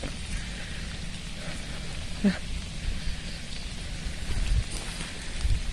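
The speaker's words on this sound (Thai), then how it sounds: "ฝนก็ตก" Rain falls steadily on a rice field during the harvest, a continuous close hiss with a few sharper knocks and thumps near the end.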